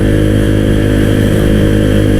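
Honda Vario motorcycle bored up to 163cc with an aftermarket exhaust, engine running in a steady, loud, close drone with a rough low rumble and no talking.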